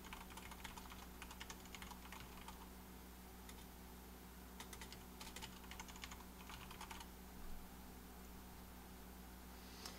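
Soft, quick keystrokes tap on a computer keyboard in short clustered bursts over a low steady hum, fairly faint and close, with no talking.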